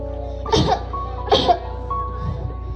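Two short coughing bursts about a second apart, close and moderately loud, followed by a fainter third, over a steady low hum and background music.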